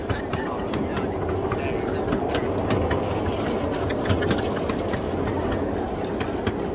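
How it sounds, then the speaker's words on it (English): Advanced Passenger Train, the experimental British tilting train, rumbling past at Crewe with steady clattering wheel and rail noise, continuous and fairly loud, under crowd murmur and occasional voices. "this was the tilting train, the advanced passenger train experiment"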